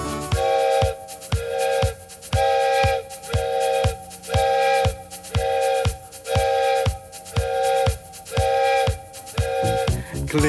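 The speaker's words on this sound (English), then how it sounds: "Listen to the whistle blow 10 times." A train engine's whistle sounds ten times in an even rhythm of long, loud, clear blasts, each followed by a short gap, with a steady chugging beat underneath.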